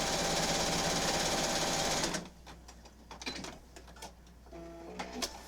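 A sewing machine runs steadily for about two seconds while stitching quilt binding, then stops, followed by quiet handling clicks and rustles.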